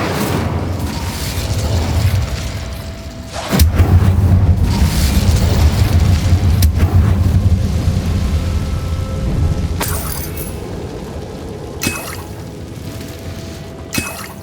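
In Hogwarts Legacy, an Incendio fire spell lets off a heavy booming blast with a rumbling, roaring burst of flame, followed by sharper impacts and pops as the fight goes on.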